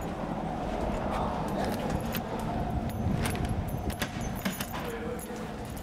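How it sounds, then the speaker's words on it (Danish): A bunch of new bar keys jangles close and continuously, handed over inside a bar in Aalborg, over steady low background noise and murmured voices. "I Aalborg har Jimmy netop fået nøglen til den nye bar."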